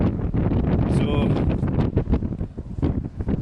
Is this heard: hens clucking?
no